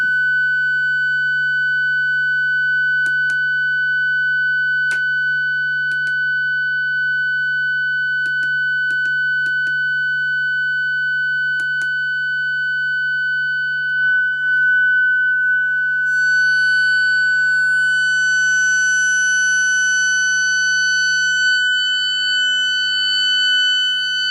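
A steady electronic synthesizer oscillator tone holds with bright harmonic overtones, growing harsher, more distorted and layered toward the end as the internal trim pot is adjusted, with occasional faint clicks.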